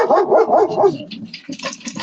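Several dogs on a porch bark repeatedly at a neighbor's dog, with quick, overlapping yaps and woofs close to the microphone at first, then softer, scattered barks.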